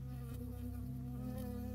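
A bee buzzes close and steady in the woods, a loud, continuous droning hum with a wavering pitch that holds for the whole moment, no voices over it.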